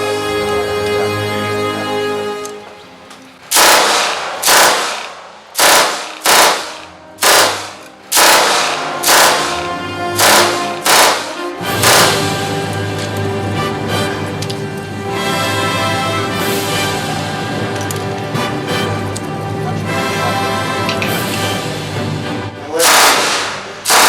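A WW2 German machine gun fires short, sharp bursts at a live demonstration, a string of loud separate volleys followed by a longer sustained stretch of fire, each burst ringing out with strong echo.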